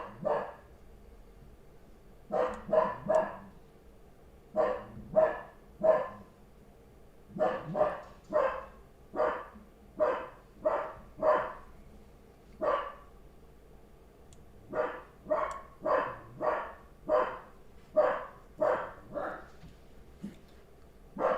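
A dog barking frantically indoors, sharp barks coming in rapid bursts of several at a time with short pauses between, moderately close and heard alone without talk.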